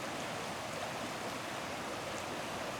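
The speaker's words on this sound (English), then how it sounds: "when water reaches a rocky path, it has to change course really quickly, which causes it to bubble up" Whitewater on the Verde River bubbles and churns over rocks, a steady close rushing hiss that stays even and unbroken throughout, with no voices.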